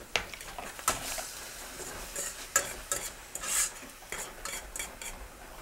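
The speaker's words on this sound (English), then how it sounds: "once we're done cooking up the spinach and garlic together" Spinach and garlic cooking in a pan while being stirred, with scattered clinks of a utensil against the pan over a light, steady sizzle, fairly quiet and close.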